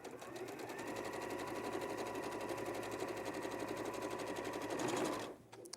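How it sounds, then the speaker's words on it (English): A sewing machine top-stitches a seam to a garment lining, a steady, close, rapid mechanical whirr running evenly for about five seconds before stopping abruptly. "I'm just going to top stitch the seam to the lining"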